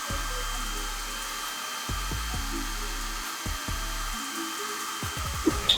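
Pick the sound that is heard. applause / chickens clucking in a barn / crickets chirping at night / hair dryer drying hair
hair dryer drying hair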